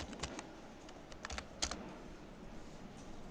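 Quiet, close keyboard typing as code is entered, with irregular bursts of keystrokes and short pauses between clicks, no voices.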